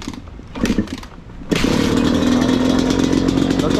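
A Yamaha dirt bike engine clatters through a few weak attempts, then catches and runs loud and steady at close range, with no voices.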